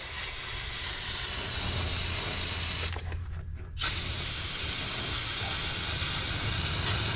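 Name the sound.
spraying brake cleaner under a Ford 6.7L Powerstroke engine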